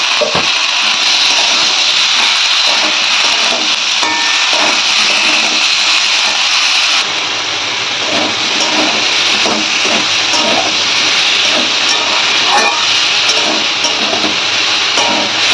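Eggplant and tomato sizzle steadily in a hot pan with fried potato for a Bengali fish curry, a loud continuous hiss with scattered crackles and stirring scrapes, no voices.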